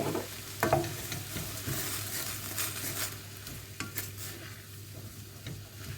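Garlic paste and spices stirred around a hot pan for a salsa dip, a steady scraping swirl over a soft continuous sizzle, close and moderately quiet.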